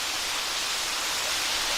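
Jacoby Falls in Loyalsock State Forest pours in a continuous, broadband hiss and rush of falling water, steady and fairly close with no other sounds.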